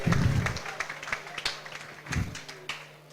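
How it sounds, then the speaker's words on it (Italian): A coffee show crowd claps after a champagne sabrage, with scattered, uneven claps and low murmur in a busy hall, fairly faint and thinning out. "un applauso"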